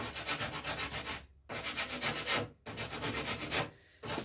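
Rawhide on the back of a wooden paddle bow is sanded in steady back-and-forth strokes with brief pauses, a close, even scratching rasp with no talking.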